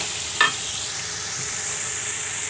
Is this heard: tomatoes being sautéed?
yes